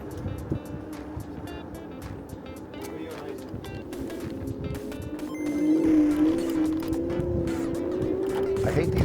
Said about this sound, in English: A loud bird.